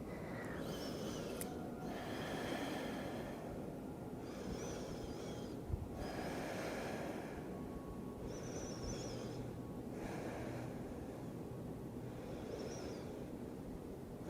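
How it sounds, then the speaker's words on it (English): Slow, audible breathing during a yoga flow pose, repeated long inhales and exhales in a steady rhythm, close and soft against faint background music. "We'll take about 3 breaths here"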